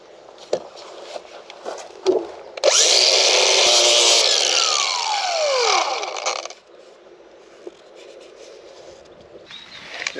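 A power sander works over fiberglass filler on the hull of a 19ft sailing boat, whining loudly and steadily for a few seconds before winding down, with scattered knocks and handling noises around it.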